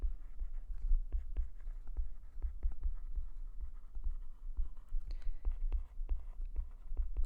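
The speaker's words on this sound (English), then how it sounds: "let's write this down" Pen or marker scratching out a definition during a math lesson, with a steady series of short, close strokes and taps over a low hum, no talking.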